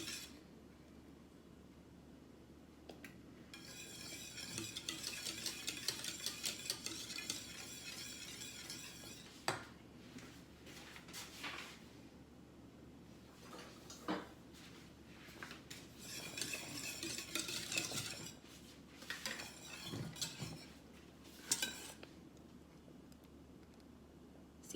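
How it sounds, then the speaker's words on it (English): A whisk stirs lemon meringue pie filling in a pot on the stove, giving soft, intermittent scraping and clinking strokes against the metal, fairly quiet, with a few sharper taps. "Just keep stirring till this gets to a boil."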